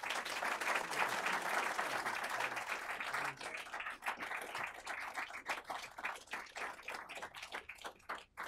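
An audience at the Heritage Foundation's Fall Legal Strategy Forum applauds to welcome Attorney General Jeff Sessions, a dense, sustained clapping from a crowd that thins into scattered individual claps toward the end.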